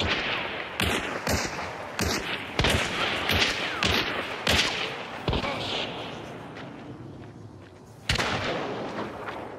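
Suppressed gunfire in the Hunt: Showdown video game, a series of sharp, fairly loud shots at irregular intervals, about ten in all, with a gap before a final shot.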